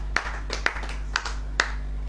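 A church congregation claps hands during an Indonesian sermon, four sharp, evenly spaced claps over a low steady hum, with no voices.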